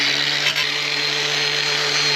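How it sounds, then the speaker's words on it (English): An angle grinder grinds steel off a battery box front weight on a custom ride-on lawn mower, a loud, steady, high whine with a constant motor hum and no pauses, very close. "Let's grind this off."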